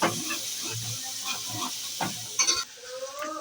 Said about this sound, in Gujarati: આ ડુંગળી પાકી જાય લાલ કલરની થઈ જાય